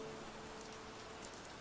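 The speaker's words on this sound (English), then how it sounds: "Get some rain going." Steady rain ambience in a video game, an even, soft hiss of falling rain with no breaks and no voices.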